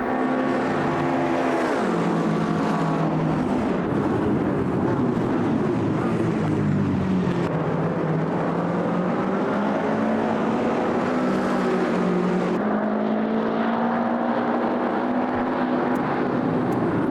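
Race car engine in the Automobilista 2 sim racing game, a GT3 car, revving loudly and continuously with rising and falling pitch through gear changes, close and steady for the whole stretch with no talk.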